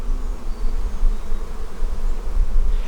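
Honeybees buzzing steadily around an open hive in Georgia, a dense continuous drone close by and fairly loud, with no talking over it.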